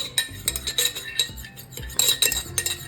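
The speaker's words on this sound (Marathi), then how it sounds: "तर त्याच्यामध्ये थोडंसं आपण दही लावून घ्यायचं आहे सगळीकडे या पद्धतीने" Metal spoon clinking and scraping around the inside of a ceramic bharni jar while spreading curd, a quick run of close, bright taps and scrapes.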